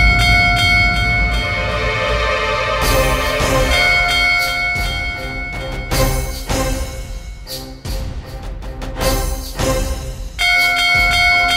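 A bell rung repeatedly, bright sustained metallic tones ringing out over one another, loud and close, with a dense layered wash of strikes and lingering hum.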